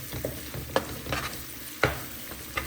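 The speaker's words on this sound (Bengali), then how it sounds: "পোলাওর জন্য আমি পেঁয়াজ, কাঁচামরিচ, তারপরে আদা রসুন তেল আর ঘিয়ের মধ্যে ভালো করে ভেজে নিচ্ছি" Onion, green chili, ginger and garlic fry in oil and ghee for pilaf, a soft sizzle broken by a few sharp scraping stirs of a spoon in the pan, with no voices.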